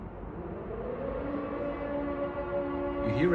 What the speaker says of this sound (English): So you hear the siren?